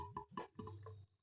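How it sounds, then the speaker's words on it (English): Italian beer pouring into a glass and fizzing, a few soft splashy bursts followed by a steady low bubbling, close and quiet with no voices over it. "Bubbling away, nice sound."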